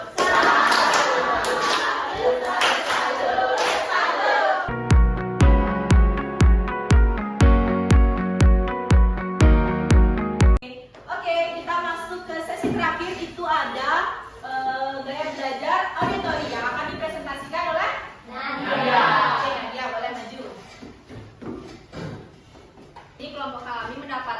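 A group of schoolchildren claps in a rhythmic salute for Okta, a run of sharp, evenly spaced claps lasting several seconds, set between stretches of lively talking and voices before and after.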